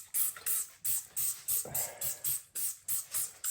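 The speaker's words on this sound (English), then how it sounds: "I think I'll give it a spray." Repeated short hissing sprays of water from a spray bottle onto a jade plant, about a dozen quick pumps in a steady rhythm, close and fairly soft.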